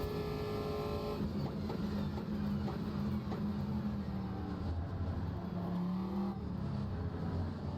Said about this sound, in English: Gearbox almost popping there on the downshifts into the chicane for Perchalski.